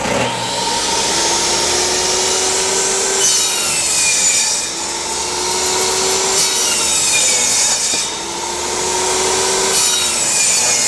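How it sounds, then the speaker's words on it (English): A power saw making repeated 45-degree cuts in wood, a loud, close, continuous whine with a grinding rasp, dipping and rising in pitch about three times as each cut is made and the blade runs free. "I started my 45 cut, and I'm going to start cutting repeat 45 cuts on this thing now"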